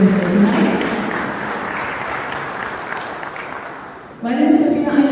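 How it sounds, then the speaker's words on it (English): An audience applauds at the 4th Pakistan Remittance Summit in Rome, Italy, a steady wash of clapping that fades slightly before a voice begins speaking over the end. "everyone here deserves a huge round of applause"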